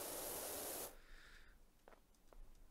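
Pressure washer spray in the video game PowerWash Simulator, a loud steady hiss of water jetting for under a second that then cuts off, leaving faint low rumble and a few soft clicks.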